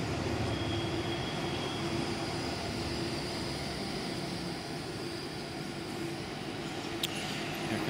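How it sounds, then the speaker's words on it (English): A number 11 tram passes along a street in Basel, Switzerland, giving a steady, broad rumble of wheels on rail that holds at an even level, with a brief sharp click near the end. "Here's the number 11 tram, and it's going to go the same way."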